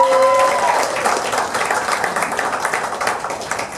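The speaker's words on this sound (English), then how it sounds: "married people, clap if you're married." A brief burst of clapping from married members of a comedy cabaret audience, loud at first and then thinning into scattered applause with faint crowd murmur.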